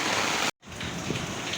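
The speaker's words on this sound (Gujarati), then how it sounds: "ધબધબાટી વરસાદ વરે નહીં" Heavy village rain pours in a dense, steady hiss, cut by a brief silent gap before resuming at similar loudness.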